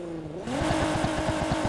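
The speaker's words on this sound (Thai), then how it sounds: "เร่งเครื่องซะหน่อย" A Nissan GT-R fitted with a Bensopra body kit revs in Need for Speed Heat, its engine note jumping from idle into a loud, steady, pulsing roar that holds close and constant.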